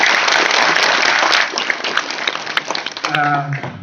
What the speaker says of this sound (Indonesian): tepuk tangan dumateng Mas Novi